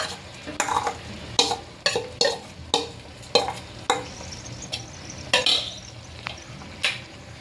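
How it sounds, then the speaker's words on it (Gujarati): Green chickpea paste with ginger-chili paste stirred and sautéed in a pan: a spoon scrapes and knocks the pan in a steady rhythm of close, distinct strokes over a low sizzle, with no talking. "ને આને પણ હું 2 મિનિટ માટે સાતળી લઈશ, અને 2 મિનિટ આપણે સીજવા દેવાની છે"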